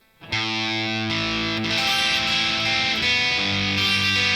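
Overdriven electric guitar plays a flowing arpeggiated line from the intro of a song, notes entering one after another and sustaining together, clear and close with no talking.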